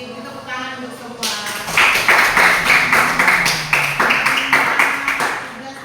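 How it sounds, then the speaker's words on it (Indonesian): A classroom of students bursts into applause for all the presenting groups in a coding and computational-thinking lesson, dense clapping starting after a few seconds of a teacher speaking and continuing loudly and steadily to the end. "Kita tepuk tangan untuk semua."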